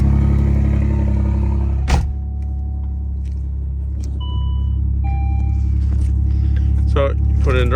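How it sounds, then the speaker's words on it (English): A Saab 9-3 Turbo X sits with its engine running after a cold start, a loud, steady low rumble with a few sharp clicks and short electronic chimes over it, plus brief bursts of faint talk. "Little cold start."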